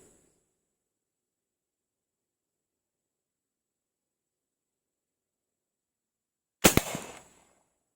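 A PVC toy gun fires a marble: a single sharp pop rings out after a long silence, with a brief crackling tail fading within a second.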